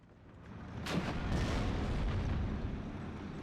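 An anti-tank gun fires in the Steel Division: Normandy 44 World War II strategy game: a couple of sharp, booming shots ring out over a steady, rumbling battlefield din.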